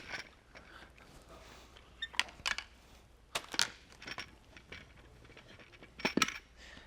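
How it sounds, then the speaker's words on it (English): A XERO Pure water filter bowl is twisted loose, producing a few sharp plastic clicks and clacks in bursts over quiet room tone. "you'll want to move it in the clockwise direction to remove the bowl"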